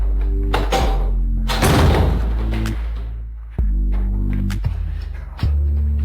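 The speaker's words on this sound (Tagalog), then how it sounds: "isara mo ang pinto" A door being closed indoors, heard as several solid thunks and thumps spread through the passage over a low steady hum, with one louder bump partway through.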